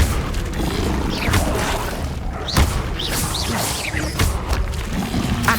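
Incendio fire spells cast during combat in Hogwarts Legacy on PS5 burst out as booming whooshes and crashing impacts. Several hits land over a steady bed of battle noise, and a few sharp thuds stand out.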